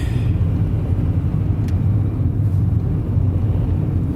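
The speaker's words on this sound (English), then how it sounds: "As you can hear, the good old 1ZZ sounds perfect for a Corolla." Toyota Corolla with the 1ZZ engine driving at night, heard from inside the cabin as a steady low rumble of engine and road noise, continuous and fairly loud with no talking.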